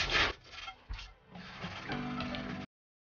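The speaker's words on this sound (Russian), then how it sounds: "Теперь давайте попробуем отмыть сковородку." Frying pan scrubbed with a homemade mustard and soda dish cleaner, close rough rubbing strokes in short bursts and then a longer steady scouring passage, no talk.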